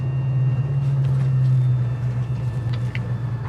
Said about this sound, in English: We're gonna go through the gears for everybody. Just kind of, we dropped it down to first here.